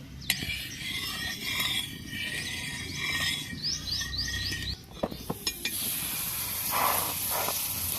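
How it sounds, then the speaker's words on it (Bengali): Oil hisses and sizzles on a hot tawa griddle, a steady close frying hiss with a few sharp taps and clicks, joined by brief bird chirps in the background. "তো দেখো তাওয়াটা আমার গরম হয়ে গেছে, তাওয়ার মধ্যে আমি তেল দিয়ে দিলাম।"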